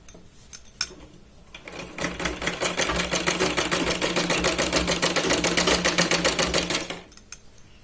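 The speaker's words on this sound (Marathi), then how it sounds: "सरळ आपण आतल्या बाजूने शिलाई लावायची इथे" Sewing machine stitches the inner neck lining of a blouse with a rapid, even mechanical chatter for about five seconds, close and loud, starting and stopping sharply with a few clicks before and after.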